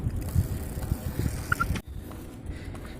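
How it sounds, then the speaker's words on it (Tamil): A Hercules Dynamite ZX bicycle rides outdoors, with buffeting wind and rolling road noise up close that drops suddenly partway through, then continues more softly. "சைக்கிள் ஓட்டிகிட்டு இருக்கிறேன்"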